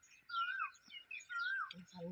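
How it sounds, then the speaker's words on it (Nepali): A bird calls from a tree in a quiet rural spot, two clear whistled phrases with a short gap between them, followed by a person beginning to speak. "चरा हेर्नु त कति मजाले कराइरहेछ"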